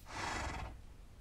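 A horse in Minecraft whinnies once, a bright, fairly loud neigh that fades after under a second, leaving low ambient rumble, with no talk over it.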